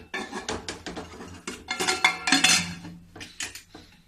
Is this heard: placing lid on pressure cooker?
yes